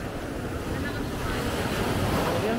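Sea waves wash steadily onto Station Zero beach in Boracay, a continuous loud surf roar mixed with strong wind buffeting the microphone, with no break throughout.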